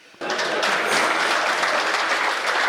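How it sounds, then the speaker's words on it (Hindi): A crowd at a Hindi comic poetry gathering bursts into applause after a brief quiet moment, then keeps up a full, even clapping sound to the end. "थोड़ी ताली बजा दीजिए"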